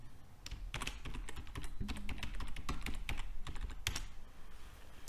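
A password is typed on a computer keyboard in a steady burst of quiet, close key clicks with slightly irregular timing, heard over faint background hum and with no talking.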